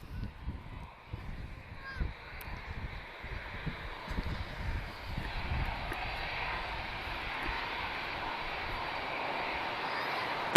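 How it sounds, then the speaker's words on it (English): Embraer E190 jet arriving at Lisbon Airport after a flight from Madrid, a steady broadband engine roar that swells and holds at moderate distance throughout, with faint outdoor background sounds. "I'm just expecting to see an Embraer E190 just arrived from Madrid."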